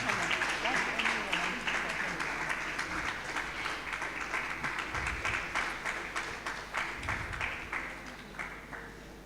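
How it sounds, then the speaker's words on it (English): Audience clapping at an entrepreneurship and innovation day event: dense, continuous applause from many hands, loud at first and slowly thinning toward the end. "Keep clapping, keep clapping."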